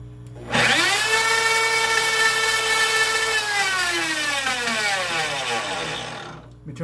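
Milling machine running at top speed cutting an 80% lower receiver, a loud sustained whirring whine that slowly falls in pitch over several seconds before stopping.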